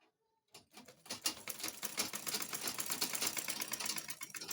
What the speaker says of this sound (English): let me sew it down so that you can see